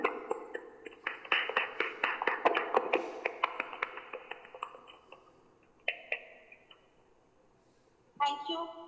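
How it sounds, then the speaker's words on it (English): Scattered clapping from several people in an online meeting, fairly close but thin, with voices talking over it and fading into isolated claps. "I would request everyone to please unmute your mic and give a round of applause for Shawni."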